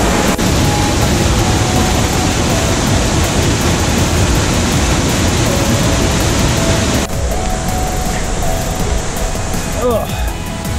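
A waterfall in the Columbia River Gorge, Washington, heard up close as a loud, steady roar of rushing water. Its broadband rumble continues without a break, and the texture shifts and thins slightly about two-thirds of the way through.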